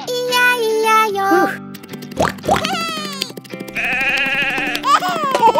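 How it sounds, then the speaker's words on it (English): Sheep bleat repeatedly in a farm nursery song, with several loud wavering baas overlapping sung and childlike vocal lines. "And on this farm he had a sheep, E-I-E-I-O. With a baa here and a baa there"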